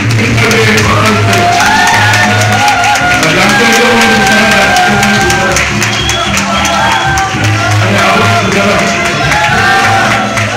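Wedding guests at a ceremony in Seoul cheering and clapping as the couple and their mothers bow, a loud, continuous crowd roar of whoops and shouts over clapping, with voices and music mixed in.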